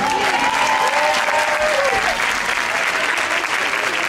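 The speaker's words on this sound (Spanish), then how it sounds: "un aplauso para Ángel" An audience at a charity gala applauds a volunteer named Ángel: steady, dense clapping from a sizable crowd holds throughout, loud and sustained.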